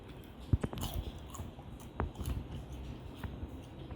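Bites into crunchy vegan crispy pork cooked in an air fryer, with a few sharp crunches followed by close, crackly chewing.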